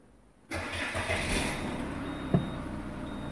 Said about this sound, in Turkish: Artık marş basalım.